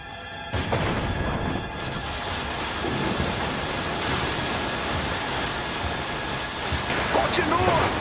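Thunder called down by Thor in Marvel's Avengers on Xbox One, a heavy crashing roll over a rain-like hiss that fills the whole stretch, loud and sustained, with game voices shouting faintly over it.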